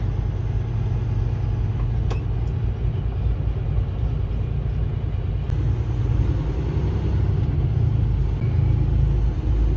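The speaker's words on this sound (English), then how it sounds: "We're stuck in a little bit of traffic." Steady, unbroken low rumble of an engine and road noise inside a truck cab, crawling through freeway traffic, with no talk.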